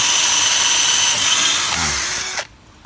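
An Imax 24V cordless three-mode drill bores into hardwood with a loud, steady high-pitched whine that holds for over two seconds, then cuts off abruptly, leaving quiet.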